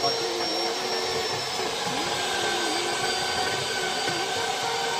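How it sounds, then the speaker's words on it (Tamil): Threads being cut on an MS iron pipe on a hospital building job site, a continuous grinding, whirring machine drone with airy broadband noise and faint periodic scraping pulses, steady and fairly close with no pause. "இரும்பு பைப்பில் த்ரெட் ஏற்றுறதுனா இப்படி தான்"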